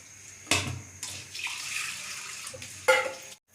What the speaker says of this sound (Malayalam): വെള്ളം തിളയ്ക്കുകയാണ്